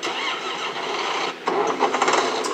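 A tractor engine in Farming Simulator 19 cranks and catches, then settles into a steady rumbling idle, loud and close, with no voices.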